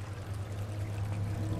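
Water pouring from a shower in the video game Amnesia: The Dark Descent. It is a continuous, moderately loud rushing stream with a low rumble, steady throughout, and no speech.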